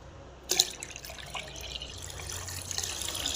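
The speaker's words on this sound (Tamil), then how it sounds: "லேசாக தண்ணி ஊற்றிக்கலாம்" Water is poured into a clay pot while making buttermilk: a short splash onset gives way to steady trickling and dripping that builds slightly over a few seconds.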